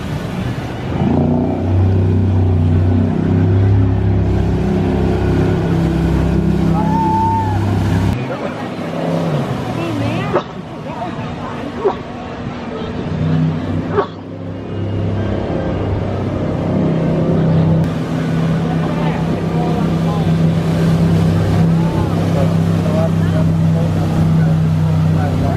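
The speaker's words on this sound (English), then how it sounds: "they have like a big speedboat that goes in" A big speedboat runs on a pond, its engine droning steadily and loudly for most of the ride with brief dips, while people talk over the motor noise.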